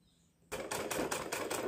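A sewing machine starts up after a quiet moment and stitches sleeve fabric with rapid, evenly pulsing mechanical clatter, close and steady.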